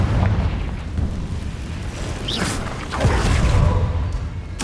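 Confringo blasting spell exploding inside a cave in Hogwarts Legacy, a dense booming roar with a whooshing burst partway through, loud and continuous with no talk.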